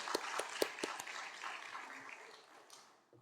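A church congregation applauds during a worship service, a soft, scattered patter of clapping that fades out over a few seconds.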